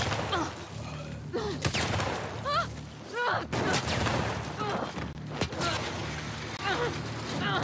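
Gunfire from The Last of Us Part II, a headshot among several loud, sharp shots and crashes over busy combat noise, with speech from characters mixed in.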